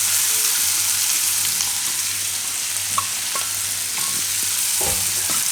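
Paneer bhurji with yogurt cooking in a pan on the stove gives a steady, close sizzle throughout, with a few soft clicks of stirring.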